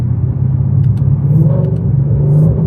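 A supercharged 2024 Mustang GT running E85 roars under a full-throttle pull, a loud close deep engine rumble building steadily throughout, heard from inside the car.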